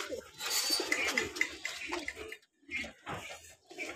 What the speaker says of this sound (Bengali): মাশাআল্লাহ, অনেক সুন্দর কবুতর, লাল টকটকা গিয়ারের কবুতর।